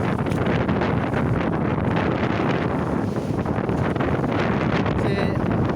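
Strong wind at sea roars steadily over a fishing boat, a loud, continuous gusting rush with buffeting on the microphone, heard alone without talk.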